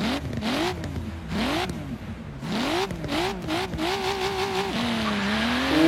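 A Nissan Skyline GTR R34 with its RB26 engine revving in Forza Horizon 3, the game engine note climbing and falling in repeated throttle blips before settling into a rising, sustained rev, loud and close with no talking.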